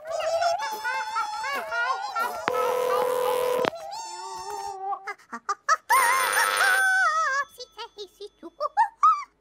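A bright, warbling electronic ringing tune from the Trubliphone toy in In the Night Garden plays in bursts, with sustained buzzy tones in between, fairly close and clear, then trails off into short chirps.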